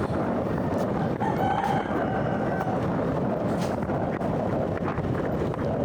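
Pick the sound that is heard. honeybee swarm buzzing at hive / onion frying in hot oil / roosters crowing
roosters crowing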